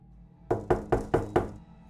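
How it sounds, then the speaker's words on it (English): A fist knocks five times in quick, even succession on bedroom window glass, each knock loud and close with a hollow thud, over quiet background. "the sickening sound of a fist knocking on the bedroom window"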